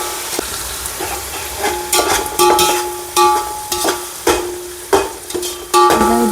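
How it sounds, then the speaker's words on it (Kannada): Onions fry in a pan for Mysore white pulao: a loud, close, continuous sizzle broken by repeated scraping and stirring bursts at irregular intervals of about a second, with no one talking. "ಈ ಈರುಳ್ಳಿಯನ್ನು ಚೆನ್ನಾಗಿ ಫ್ರೈ ಮಾಡ್ಕೊಬೇಕು"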